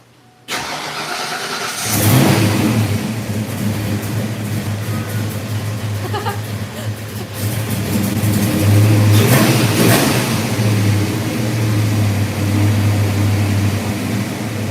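Ford Mustang Foxbody engine cranks and fires up, then settles into a loud, steady idle with a couple of sharp revs rising and falling, heard close up with no talk over it.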